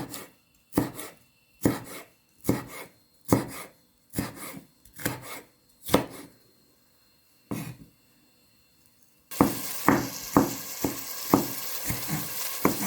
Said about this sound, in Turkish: Bakın bu şekilde küçücük minik minik doğradık sevgili dostlar.